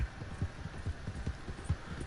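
Horse hooves gallop in Red Dead Redemption 2, an Arabian racing a Morgan, with a quick steady drumming of hoofbeats pounding close and fairly loud, no talk over them.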